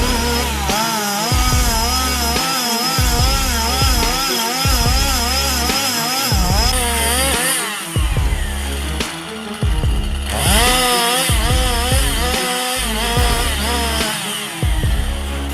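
A chainsaw cuts into a tree on a slope. The engine snarls loudly and continuously, revving up and down in repeated surges as the chain bites, with brief dips between cuts.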